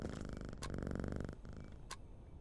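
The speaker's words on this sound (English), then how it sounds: "Pat the cat." A cat purring when patted in a video game, a close, continuous rumbling purr with a rhythmic pulse and a couple of brief sharp clicks.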